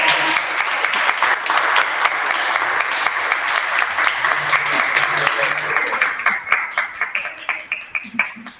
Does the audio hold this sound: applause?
yes